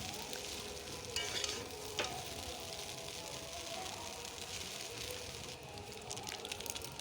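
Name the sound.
stir-frying chow mein with winter vegetables in pan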